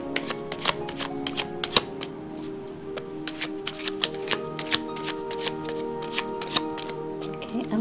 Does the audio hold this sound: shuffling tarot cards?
yes